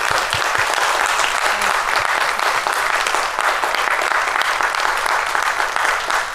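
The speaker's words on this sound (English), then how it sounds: "Please give a warm applause." Warm audience applause for a lecturer at an evening lecture event, dense and sustained clapping from a full room that stays loud and even throughout.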